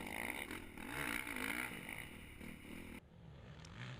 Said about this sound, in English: You can hear them going up and down through the RPMs.